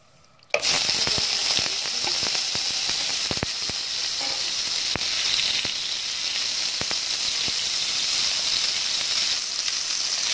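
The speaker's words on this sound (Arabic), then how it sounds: "السمنه بس تعمل من النار، هتسيح مني من النار" Spoonful of ghee dropped into a hot pan over a stove flame, bursting into a loud, steady sizzle with scattered crackles and pops that continue throughout.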